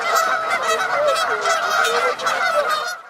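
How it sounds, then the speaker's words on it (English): Canada geese in an urban Los Angeles park honk continuously, overlapping calls from a flock forming a dense, steady chorus, fairly close and loud with no gaps. "Canada geese are like the ultimate social squad, always chattering"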